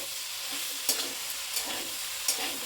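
Spinach tossed in with potato and radish sizzles steadily in a hot pan, with a few sharp scraping stirs of a spoon cutting through the constant frying hiss, close and alone.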